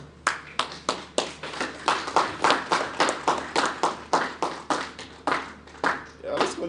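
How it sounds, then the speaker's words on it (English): A conference audience at a Project Management Institute annual event claps for sponsors, a small group's sparse rhythmic clapping in regular bursts, close and fairly loud, with a few voices faintly mixed in. "let's continue giving a round of applause"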